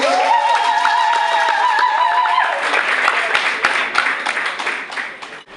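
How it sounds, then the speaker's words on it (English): Open mic poetry crowd clapping continuously under a sustained tonal drone that fades after a couple of seconds, leaving scattered, thinning claps near the end. "Keep clapping till he comes to mic."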